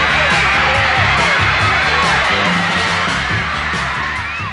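Crowd of girls screaming at a boy band, a dense continuous wall of high shrieks and whoops with shouting throughout, loud and unbroken.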